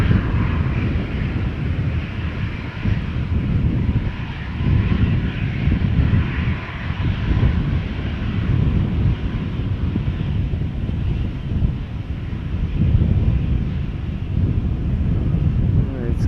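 KLM Boeing 737-800 departing Amsterdam Schiphol for Rome, a loud, steady jet engine roar with gusty wind buffeting the microphone, sustained throughout.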